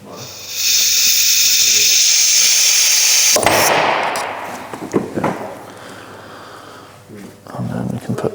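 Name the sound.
compressed air line pushing brake caliper pistons out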